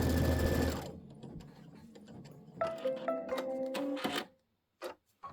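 A sewing machine stitches quilt pieces in short bursts of fast, regular mechanical clatter, pausing and restarting, with a brief near-silent gap before final quick taps.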